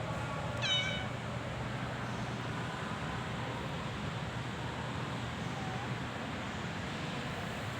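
A cat meows once, near and clear, near the start. A quiet outdoor hum with faint traffic and wind carries on after it.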